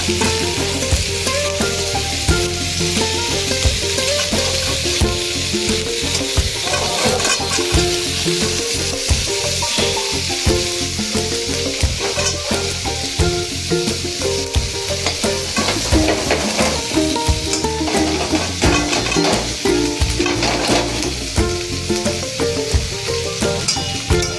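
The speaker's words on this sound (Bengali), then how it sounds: "তো দেখো আমার মাছগুলো ভাজা হয়ে গেছে অল্প তেল দিয়ে আরও কিছু মাছ আছে সেটাও ভেজে নেবো" Pieces of shankar fish (stingray) fry in a little oil, a loud continuous sizzle with constant stirring and scraping clatter right up close, running without a break.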